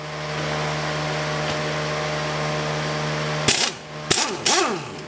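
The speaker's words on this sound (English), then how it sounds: "I have my air gun set on the lowest setting" A pneumatic air gun on its lowest setting loosens a 10mm brake line bolt on a 2003–2007 Honda Accord, firing three short, loud bursts with brief gaps after a steady hum from a nearby compressor.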